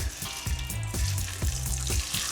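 Steak sizzles as it fries in olive oil in a hot pan, with a steady crackling hiss and a few rhythmic pulses as the pan is moved, and no talking.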